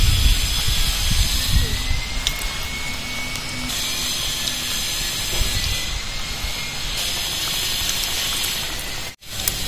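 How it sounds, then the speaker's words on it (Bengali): Ash gourd slices dipped in batter frying in hot oil, a steady broadband sizzle and hiss that continues evenly throughout, briefly cutting out near the end. "চাল কুমড়োগুলো নিয়ে ব্যাটারের মধ্যে চুবিয়ে এরকম চপ চপ মতো এইভাবে নিয়ে ভেজে নিতে হবে চাল কুমড়োর চাক ভাজি"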